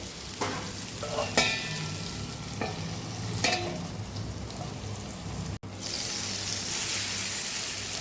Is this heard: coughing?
no